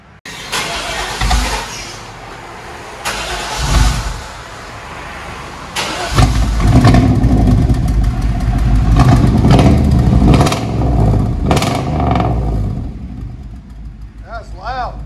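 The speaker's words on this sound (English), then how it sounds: "So basically it's a true dual now. I'll let you guys hear it in a second." A 1999 Chevy Suburban with a 5.7L V8 and true dual straight-pipe exhaust starts and revs loudly in repeated bursts, a deep rumble swelling and falling close by, with voices talking over it.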